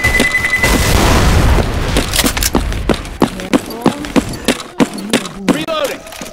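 A pipe bomb explodes in Left 4 Dead 2 during a co-op custom carnival campaign: a loud, rumbling blast fills the opening seconds, then a string of sharp, evenly spaced thuds and cracks follows.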